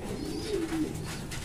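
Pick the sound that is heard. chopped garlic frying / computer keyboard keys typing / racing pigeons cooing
racing pigeons cooing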